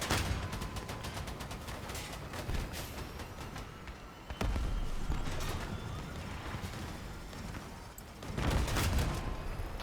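Grenade launcher firing repeatedly in the vehicle combat game Crossout, a dense stream of muffled blasts and crackling explosions with a few louder bursts near the end, no talk.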